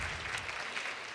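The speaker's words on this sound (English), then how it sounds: "if we can give them a round of applause" Audience at a luncheon clapping for the sponsors, a dense, steady round of applause from a sizable crowd throughout.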